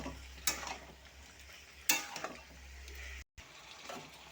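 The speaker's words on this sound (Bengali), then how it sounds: "আর একটু ভালো করে কষে নেব সবজিটা" Potatoes and pointed gourd sautéed with spices in a pan give a soft sizzle, broken by two sharp scrapes of a spatula stirring the vegetables.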